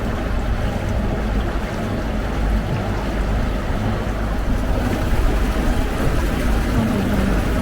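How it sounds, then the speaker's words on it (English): Motorboat overtaking on a canal, a continuous low engine rumble with water wash and wind noise, loud and close throughout. "We are being overtaken by a motorboat over there."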